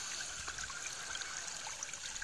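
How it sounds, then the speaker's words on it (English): Rainwater runs along the side of a road as roadside runoff, a steady trickling stream with a faint continuous burble and no voices. "Now this water is just running along the side of the road."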